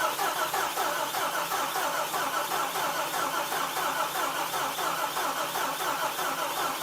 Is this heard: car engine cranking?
yes